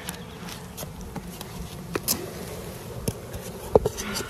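Honeybees buzzing around mini mating nucs at close range, with a continuous drone and occasional louder passes and small knocks against a quiet background.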